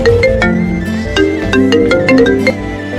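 A mobile phone rings with a repeating electronic melody, loud and close, continuing steadily throughout with no talking over it.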